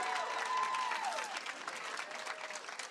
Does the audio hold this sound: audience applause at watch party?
yes